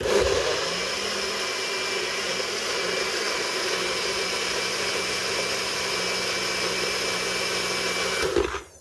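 Blender mixing a meal replacement shake, a continuous high whirring motor drone running steadily for several seconds before cutting off near the end.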